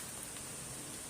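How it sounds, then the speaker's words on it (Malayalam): Light drizzle falls on dragon fruit plants on a rainy day, a faint, steady, even hiss with no other sounds. "മഴ ഇപ്പോഴും പൊടിഞ്ഞുകൊണ്ടിരിക്കുന്നു."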